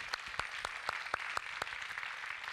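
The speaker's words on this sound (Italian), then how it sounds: "un applauso a Vittorio Sgarbi che compare" Applause for Vittorio Sgarbi at a special-effects presentation, heard as a sparse run of separate, sharp claps at a steady pace over low background noise, fairly faint and distant.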